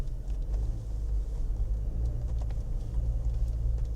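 A Jeep Wrangler Rubicon climbs a hill in part-time four-wheel drive high range, its engine giving a steady, close, loud low rumble with road and tyre noise throughout, no voices.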